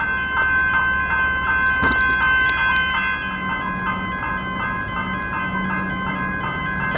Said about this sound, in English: ice cream truck there.